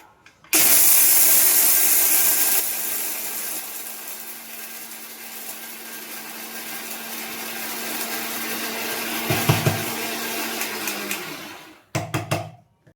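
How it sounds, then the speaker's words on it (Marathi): A mixer grinder whirs loudly as it grinds sabudana (sago pearls) fine. The motor runs steadily for about eleven seconds, dips and surges slightly near the end, then stops, followed by a few short clicks and rattles. No talk. "हे आपल्याला दळून घ्यायचं आहे बारीक करून घ्यायचे"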